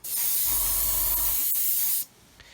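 An airbrush sprays a paint wash onto a 1/144 scale C-141B Starlifter model in a steady hissing burst for about two seconds, then cuts off, leaving quiet room tone.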